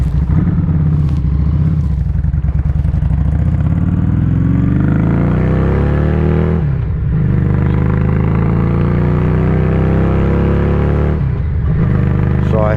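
A Harley custom motorcycle rumbles steadily while being ridden on a cool morning, its low engine drone continuous throughout with rising and falling pitch sweeps as it shifts, loud and close, mixed with wind buffeting.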